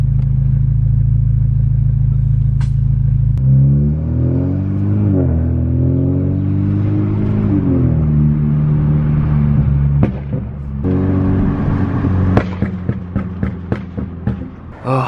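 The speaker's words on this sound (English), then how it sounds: "I think it's probably time for me to turn my cold start back off because it's so loud" A BMW F30 on a cold start idling with a loud exhaust, a deep steady drone that shifts pitch as revs settle, followed by clunks and rattles near the end.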